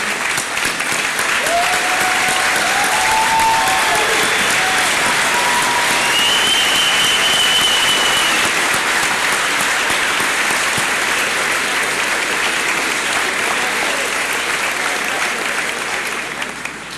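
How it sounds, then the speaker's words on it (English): A large crowd at a 2012 high school graduation gives sustained applause, dense and steady for the whole stretch, loud and close with a few faint whistles and cheers rising over it before it slowly tapers. "Give a nice round of applause."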